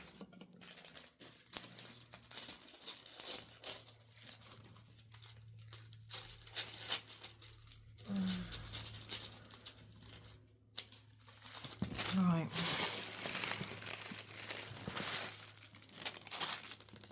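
Paper being cut to size for a junk journal, quiet crinkling and rustling handled close by, with a couple of louder bursts of scraping and tearing.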